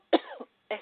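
A single close, sharp cough is followed by a short rasping tail and then a second, softer cough, both clear against silence on a talk radio show.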